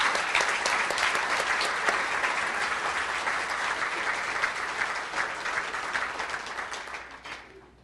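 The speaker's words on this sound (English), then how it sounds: "let's please give all of this year's winners a big round of applause." A large crowd at a chamber of commerce awards event applauds steadily for several seconds, dense clapping that gradually fades out at the end.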